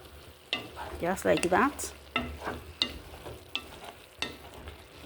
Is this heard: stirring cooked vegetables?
yes